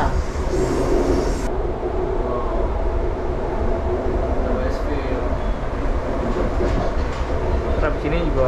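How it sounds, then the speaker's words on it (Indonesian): A passenger train ride in Australia: loud steady rumble and rattle of the carriage from inside, with a high hiss fading early on, while people talk over it. "Ini sekarang kita dari kereta."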